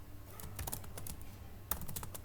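Keys clatter on a computer keyboard while C code is typed, a quick burst of clicks followed by a pause and then a second cluster of taps, close and fairly quiet over a low background hum.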